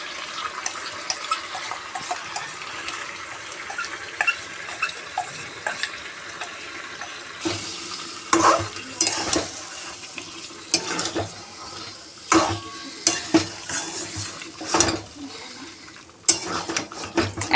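Smooth spinach paste is stirred and fried in a pan with the meat for a curry, giving a steady sizzle broken by repeated scraping and clattering stirs, close and fairly loud.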